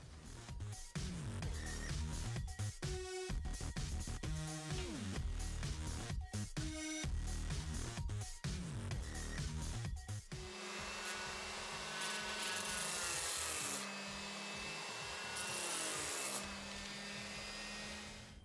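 Edge banding is applied to and trimmed along the top edges of a plywood floating shelf, loud rhythmic rubbing and scraping strokes, then a sustained whirring hiss like a power tool in the second half.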